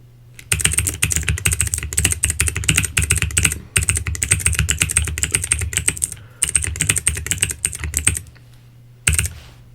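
Fast, close typing on a computer keyboard, clattering in bursts with brief pauses and a final short flurry, crisp and fairly loud in a quiet room with no voice.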